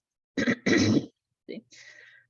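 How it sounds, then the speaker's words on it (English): A few short, rough throat-clearing bursts close to the mic, a pair of quick ones followed after a pause by a softer, drawn-out rasp. "forgive me if I clear my throat a bit"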